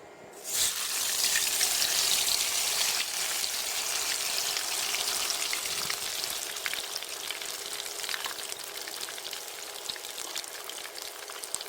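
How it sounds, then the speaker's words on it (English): Steady crackling sizzle of tinfoil barb fish shallow frying in a little oil over low to medium heat, close and continuous, with dense popping spatter that eases slightly over time. "we shall shallow fry the fish. Very little oil."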